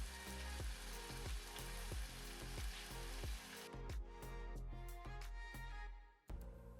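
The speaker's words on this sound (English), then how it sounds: "Listen to that lovely sizzle" A ribeye steak sizzles loudly in a hot pan, a dense, steady crackling fry with faint rhythmic clicks running through it, briefly dipping near the end.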